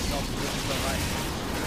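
Dense, rumbling fire explosions in the game Diablo 3, continuous booming blasts with a crackling wash layered over them throughout, near and loud.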